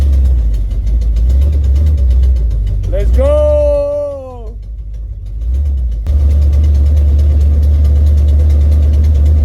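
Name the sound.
1969 Camaro engine running and idling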